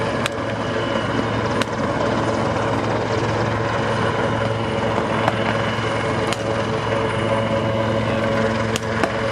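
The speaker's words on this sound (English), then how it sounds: "We should see 2 sections coming out the back of these Merlins as they approach their HLS now" Royal Navy Merlin helicopters approach a landing site at RNAS Yeovilton air day, rotors giving a steady thudding drone with sharp periodic cracks over a constant engine hum.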